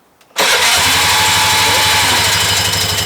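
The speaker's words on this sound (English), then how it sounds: "Let's start it up, dude." A Piaggio ET4 scooter engine fires up after a brief quiet moment, catching abruptly and settling into a loud, steady idle close by, with no voices.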